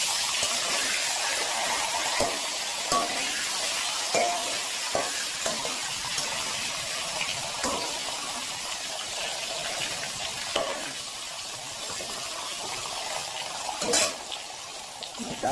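Pointed gourds seasoned with turmeric and salt frying slowly in hot oil, a steady close sizzle and crackle with occasional soft knocks of a spatula against the pan, with no talking.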